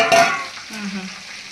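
Mutton boti curry with salt and ginger paste in a pan: a short burst of stirring and sizzle, then a low hum as the cooking settles.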